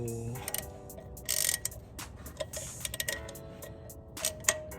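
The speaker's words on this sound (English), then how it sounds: "go ahead and tighten it down." Close ratchet clicking in quick repeated bursts while bolts are tightened during a Jeep radiator and thermostat replacement, with brief pauses and metallic ticks between strokes.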